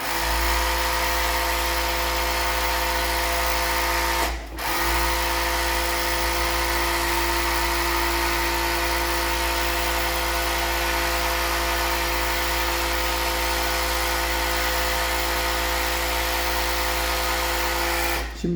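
A 4-thread overlock sewing machine running fast, a loud, steady high-pitched whir broken by one short pause before starting again.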